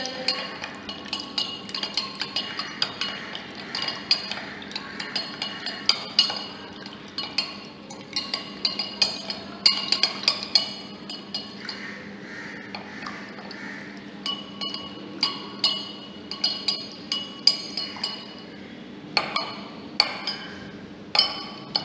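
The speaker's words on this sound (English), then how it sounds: "In the second tumbler, I am going to add the common salt. And mix it well." Common salt being stirred into water in a glass tumbler, with repeated light clinks and taps of a spoon against the glass in an irregular rhythm, close and fairly quiet, no talking.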